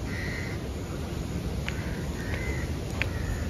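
Several crows caw at a distance outside in Ratnagiri, over a steady background hiss, harsh calls repeating in short bursts.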